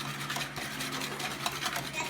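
Chocolate granita mixture being stirred in a bowl, a steady close scraping and swishing with small clinks, continuous for a couple of seconds and fairly faint.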